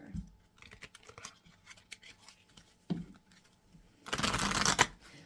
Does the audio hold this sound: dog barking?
no